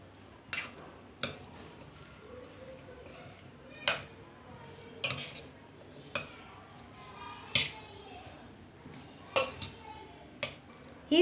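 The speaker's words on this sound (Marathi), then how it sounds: "आता आपण एकत्र सगळं मिक्स करूया।" Koshimbir salad being stirred together with salt, red chilli powder, coriander and curd, giving a series of spaced spoon clinks and scrapes against a bowl, about ten sharp taps over a soft mushy mixing background.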